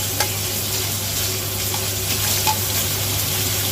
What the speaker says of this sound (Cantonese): 咁所以等佢煎一煎佢，香口少少。